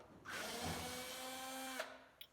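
A power driver whirs steadily for about a second and a half while backing screws out of a template fixed to a Fender Jaguar-style guitar body, ending with a click, close and alone.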